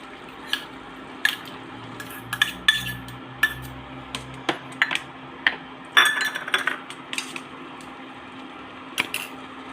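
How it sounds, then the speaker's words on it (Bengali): A metal spoon stirs mashed sweet potato and vegetables into a vegetable curry in a pan. Irregular clinks and scrapes sound close by over a quiet kitchen hum. "পুরো তরকারিতে মিশিয়ে দিচ্ছি"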